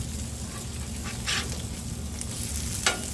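Bacon frying on a Blackstone griddle gives a steady, moderate sizzle with a low hum underneath, broken by a few brief spatters and one sharper pop near the end.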